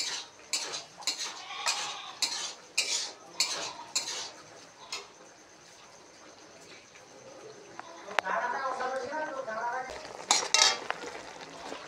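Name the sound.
frying soybeans for soybean potato curry in a pan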